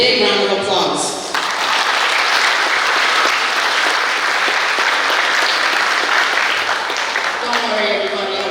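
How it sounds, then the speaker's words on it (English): A graduation audience applauds the graduating students at PCHS, sustained loud clapping from a large crowd that swells in after a brief moment of talk and continues steadily, with a voice speaking faintly near the end. "if you would join me in giving them a big round of applause"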